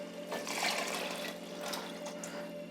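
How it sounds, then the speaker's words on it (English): Water pours steadily into a pot of chicken soup with coconut milk, a continuous splashing rush lasting a few seconds, fairly quiet and close, with no voices. "This is 2 cups of water"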